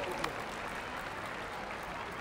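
A crowd at the World Para Athletics Championships opening ceremony in New Delhi applauding steadily, a dense wash of clapping that holds at an even level throughout, heard from a distance.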